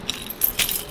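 A bunch of keys jangling briefly up close, a quick bright metallic clinking in less than a second, with no talking.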